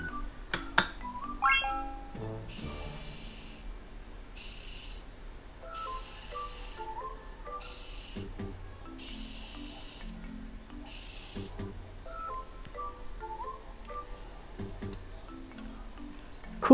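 A Matatalab Pro coding robot plays a short rising chime, then runs in bursts of motor whirring as it moves over paper drawing with a pen, while soft electronic tones play beneath.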